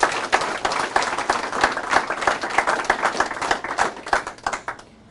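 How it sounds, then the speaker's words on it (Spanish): A church congregation claps loudly and steadily for several seconds after a scripture reading, a dense roomful of hands that tapers off near the end. "Dale un fuerte aplauso a la palabra de nuestro Señor."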